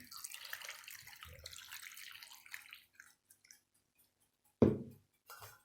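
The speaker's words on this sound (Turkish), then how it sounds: "Şimdi üzerine su ekleyip patateslerimizi haşlayacağım." Water runs from a tap into a pot of chopped potatoes in a home kitchen, a steady splashing pour that thins and stops, then a short louder splash, close and without talk.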